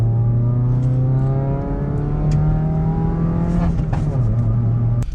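A modified Maruti Suzuki Baleno accelerates through a U-turn, its engine holding a loud, steady drone close by with a small pitch shift near the end of the pull.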